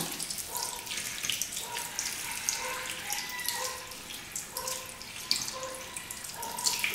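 Tap water runs steadily into a sink while makeup brushes are rinsed, with a close splashing hiss and irregular drips and gurgles as the brushes move under the stream. No voice is heard.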